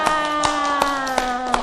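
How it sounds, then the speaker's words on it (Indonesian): Children clap their hands in a short round of applause during a classroom activity, five or so sharp claps spaced evenly over a steady background of tonal hum. "Tepuk tangan dulu buat semuanya."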